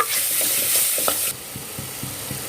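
A masala mixture is stirred in a pan over a soft steady sizzle, with a brighter hiss fading partway through and light rhythmic scraping taps continuing, close and without talk.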